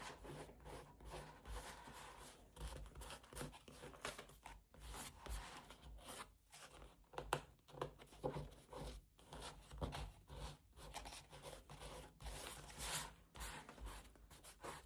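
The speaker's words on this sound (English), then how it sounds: "We're going to be peeling off as much as we can." Wet paper being peeled and rubbed off an image transfer in an art journal, a quiet, close scratchy rasping made of repeated short strokes with brief pauses between them.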